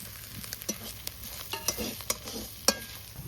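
Salt, turmeric, cumin, coriander, pepper and meat masala are stirred into frying ginger, garlic and onion, a quiet sizzle under repeated scraping and clicking of a spoon against the pan, with no one speaking.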